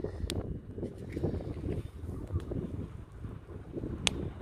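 Gusty wind rumbles and thumps against the microphone, a loud, close blustering with a couple of sharp clicks.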